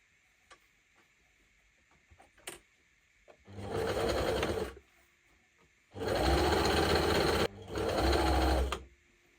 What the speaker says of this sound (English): And now I am going to stitch it.